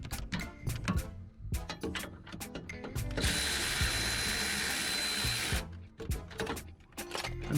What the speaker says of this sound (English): Use the ratchet.